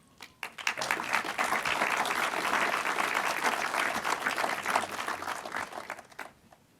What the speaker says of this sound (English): another round of applause for Sean